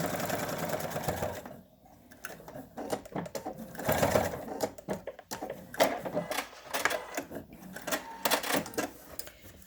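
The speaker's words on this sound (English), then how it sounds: "Back stitch, and stitch all the way down and back stitch again." A sewing machine runs in close, uneven bursts as it backstitches, sews a straight line of fabric and backstitches again, with short pauses and clicks between runs.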